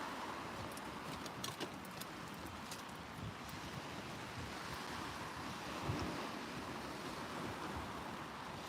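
Wind gusting across a West Sussex beach while sea fishing, a steady rough roar of microphone buffeting with surf washing underneath, loud and continuous with no voices.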